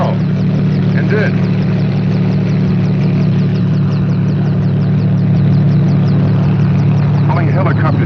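A helicopter engine drones steadily with a low, continuous hum and rotor roar throughout, while voices speak faintly over it.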